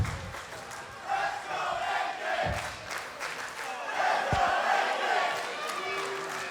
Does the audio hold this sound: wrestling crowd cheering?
yes